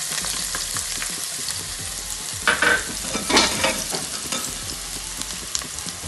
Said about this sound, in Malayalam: നന്നായി പൊരിയും